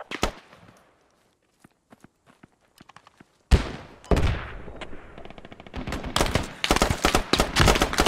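Video game gunfire in a squad shooter: a few scattered shots at first, then a sudden loud burst of automatic fire followed by repeated close bursts and rattling volleys.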